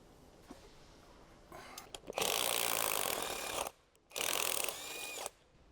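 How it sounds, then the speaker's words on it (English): A socket ratchet turning the lower control arm bolt on a 2007-2013 Acura MDX, heard as close bursts of rapid clicking with brief pauses between them. "Use the 19mm socket to remove the lower control arm mounting bolt."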